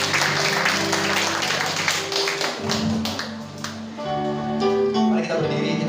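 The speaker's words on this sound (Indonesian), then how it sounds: "Berikan tepuk tangan buat Tuhan." A church congregation applauds to the accompaniment of sustained keyboard music, the clapping loud at first, then thinning and dipping while the music carries on.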